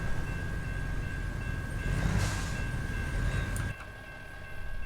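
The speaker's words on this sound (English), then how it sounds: "I want to see the choo-choo train" A train rolls past in American Truck Simulator, a loud continuous rumble and rail roar with a steady whistle-like tone, briefly intensifying before dropping off near the end.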